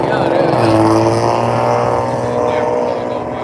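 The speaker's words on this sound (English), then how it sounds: "He in the Chrysler, it sound like a Honda Accord." A Chrysler car passes with a thin, buzzy engine note much like a dirt bike. It holds steady and loud nearby while people talk over it.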